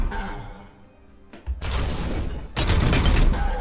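Massive bolter support fire from the video game Warhammer 40k: Chaos Gate - Daemonhunters: a short lead-in sound, then a loud rapid fusillade of booming shots that swells into a heavier second burst, with no talk over it.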